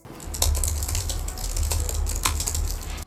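Soft, muted keys clatter quickly and steadily on a Logitech Mini for Mac low-profile, non-mechanical keyboard, close up, with no voices.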